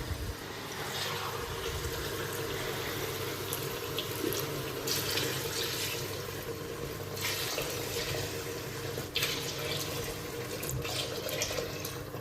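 Water pours steadily into a pot of rice, a continuous gurgling stream with occasional splashy bursts, close by and without talk.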